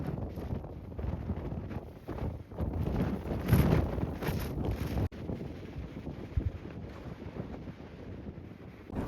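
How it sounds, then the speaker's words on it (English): Strong, cold wind at Canyonlands National Park buffets the microphone in a steady, heavy roar with gusty surges and low rumbling, no voices present. "it was very windy and cold up here"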